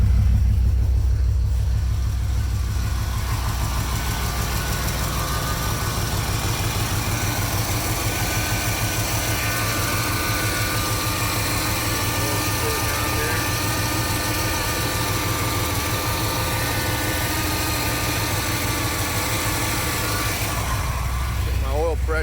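A 1982 Ford Capri RS engine idles steadily, a loud continuous rumble with a faint rhythmic pulse that holds evenly throughout without changing pace.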